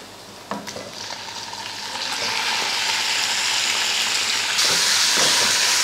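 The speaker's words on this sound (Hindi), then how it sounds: "हल्का सा इसको फ्राई करेंगे और इसमें ऐड कर देंगे चिकन।" Chicken frying with onion and crushed garlic in a clay pot, a steady close sizzle that grows louder and brighter over time, with occasional stirring scrapes and clinks.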